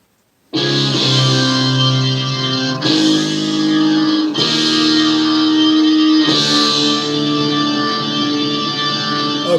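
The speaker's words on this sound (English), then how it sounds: "icy organ that's coming out. It's coming out of my left speaker right here" A bright, icy organ fills a recorded song, sustained chords swelling in four long phrases over a steady, reverberant backing, loud and continuous with no voices.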